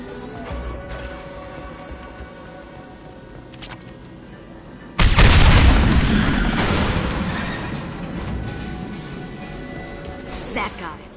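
A sudden heavy blast erupts as fuel tanks blow up in a video game, a loud boom that rolls on and slowly fades, following quieter game sounds and a few metallic clanks.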